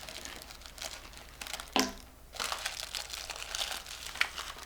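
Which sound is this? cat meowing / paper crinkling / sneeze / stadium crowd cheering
paper crinkling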